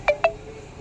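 Two short, clean electronic telephone beeps sound in quick succession for an incoming call, close and moderately loud, followed by a faint lingering hum with no voices.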